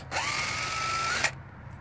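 A DeWalt impact driver spins out an 8mm bolt holding a coil pack on a Suzuki Grand Vitara XL7 engine, a steady whirring whine that runs for about a second and ends in a brief rattling burst, then near silence.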